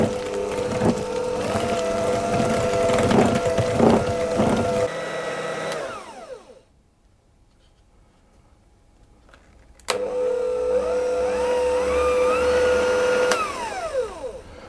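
An electric mixer whirs steadily as eggs are beaten into sponge cake batter for a coconut and jam sponge, loud and close, stopping briefly in the middle before starting up again.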